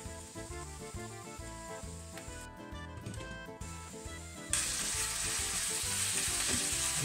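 Penne arrabbiata being stirred into tomato sauce in a pan over low heat, a steady soft sizzle with scraping stir sounds that grows brighter and louder partway through, no voices.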